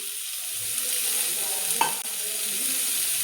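Drumstick flowers frying in oil, a soft continuous sizzle with a quick utensil scrape partway through.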